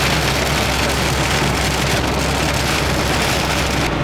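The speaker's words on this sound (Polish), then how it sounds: "zobaczcie jak leje, naprawdę jest oberwanie chmury." Heavy cloudburst rain pounds steadily and loudly on a small Fiat 126p car driving up the Grossglockner mountain road, a dense continuous roar with no voices.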